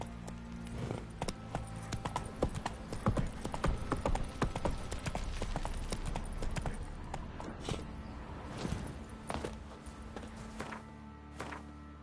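Hoofbeats of the horse Roach galloping in The Witcher 3 video game, a steady rapid clip-clop running through the whole stretch with game music and ambience beneath.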